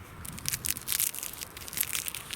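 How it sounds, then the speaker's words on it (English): Frost-damaged rice paper tree leaves on an allotment are crunched and crumpled by hand, a close, dry crackling with rapid irregular bursts throughout. "the leaves that have sort of come out early, if you listen to them"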